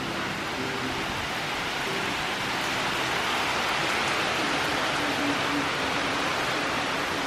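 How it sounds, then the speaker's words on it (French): Steady, dense rain hiss fills the background, an even wash of falling water with no voices, constant from start to finish. "Dehors, il pleut."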